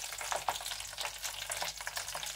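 Frozen French fries deep frying in hot oil make a continuous bubbling sizzle with crackling bursts throughout, close and fairly loud, with no voices.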